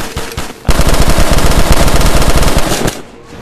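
Rapid automatic gunfire in Call of Duty Black Ops 2 Zombies played in VR hammers out in one loud, continuous burst of about two seconds, then cuts off.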